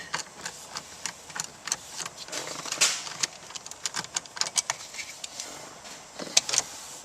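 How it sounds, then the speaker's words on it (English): A wrench works 10mm bolts loose from the stereo panel of a Toyota Sienna, giving a rapid run of close metallic clicks and ratchet ticks over a low, steady background. "There are 4 bolts that need to be removed."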